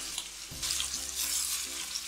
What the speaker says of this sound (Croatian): Dok vam se meso prži